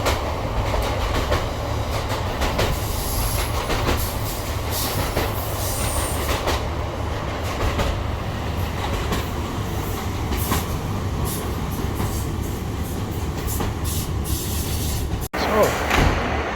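A train between Swansea and Pembroke Dock rumbles steadily on the rails with wheel clatter and occasional faint squeals, a continuous moderately loud interior roar, with murmuring voices underneath.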